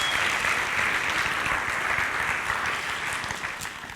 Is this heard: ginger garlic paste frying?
no